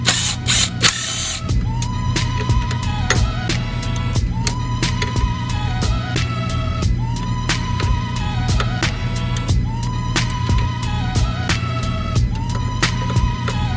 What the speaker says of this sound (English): Gonna have to undo those two nuts right here.